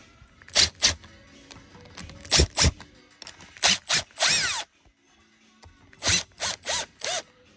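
Bolts being backed off the power valve cover of a 1994 Honda CR250 two-stroke engine, heard as a string of short, sharp ratcheting bursts in several groups with brief pauses, close up and loud, with no talking.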